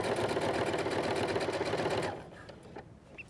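Sewing machine top stitching along the edge of bias tape on a little girl's ruffled party dress, a steady close whir for two seconds before stopping into quiet handling noises.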